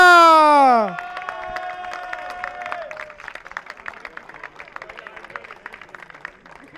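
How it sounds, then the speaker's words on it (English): Crowd at a karting event, the 2023 Winter Cup X30 Senior Final, applauding driver Ruben Moya; steady scattered clapping and cheering follows a loud tonal blast at the start, lasting several seconds at moderate distance. "please give out your best round of applause for Ruben Moya"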